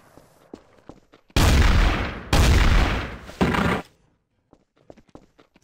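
Gunfire in Garry's Mod Trouble in Terrorist Town: two loud, close bursts of rapid shots back to back, then a shorter third burst, with faint clicks and quiet noises around them.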